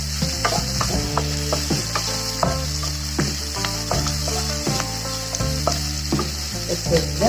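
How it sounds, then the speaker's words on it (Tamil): Onions sautéing in a pan for a Chettinad-style mushroom gravy give a steady sizzle with repeated scraping strokes as they are stirred, heard beneath rhythmic background music. "நல்லா வதங்கணும், கைவிடாமல் வதக்குங்க வெங்காயத்தை."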